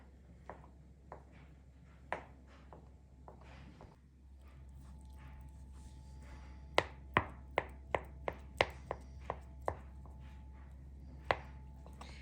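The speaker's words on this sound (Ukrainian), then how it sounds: "розрізаю навпіл пополам, ще раз так пополам. І отакі смужечки буду робити." A knife cuts boiled eggs into strips on a board, with a scattered series of sharp, close chopping taps, faint at first and then louder and quicker, in a quiet room with no talking.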